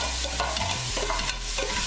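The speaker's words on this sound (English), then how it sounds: "onions are getting a little bit caramelized, so I just want to make it a little bit browner before I add my liquid in" Onions for a Punjabi curry fry in a pan and are stirred as they caramelize, with a steady close sizzle and a few scraping strokes of the spoon across the pan, and no voices.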